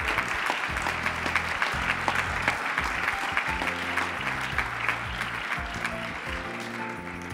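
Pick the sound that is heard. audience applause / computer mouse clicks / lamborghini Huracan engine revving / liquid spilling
audience applause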